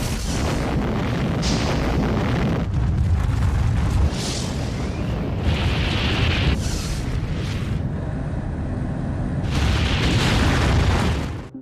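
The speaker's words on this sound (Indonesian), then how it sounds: "Amerika Serikat berhasil menjatuhkan bom atom di Hiroshima dan Nagasaki." An atomic bomb explosion rendered as a loud, sustained rumbling roar with repeated deep booming surges and bursts, continuing for over ten seconds with no talk.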